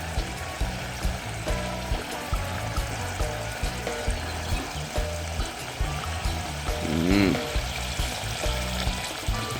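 Coconut oil boils in a pot over an outdoor cooking fire, giving a steady bubbling, sizzling hiss that runs through the whole clip with a brief louder surge near the end.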